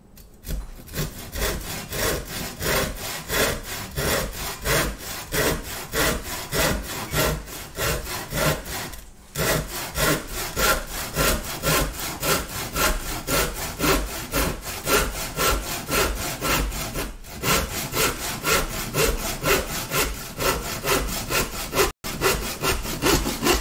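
A handsaw cuts through wood with steady, rhythmic back-and-forth strokes, loud and close, with only brief pauses between runs of strokes.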